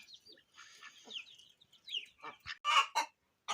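A hen clucks in short bursts close by, quick choppy calls that build into a few louder, sharper squawks near the end.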